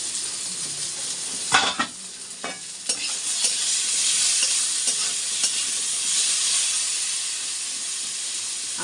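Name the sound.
potatoes frying and being stirred in a pan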